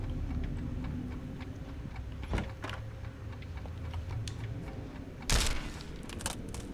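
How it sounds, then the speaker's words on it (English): A clock ticks faintly and steadily in a dark restaurant in a video game, under a noisy ambient bed, with a couple of brief louder clunks. "There's a clock ticking."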